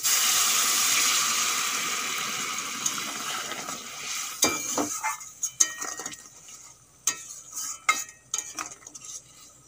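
Hot water hits a pan of frying Bengali dry fish (shutki), a loud hiss that slowly fades, then scattered clinks and scrapes of a utensil stirring against the pan.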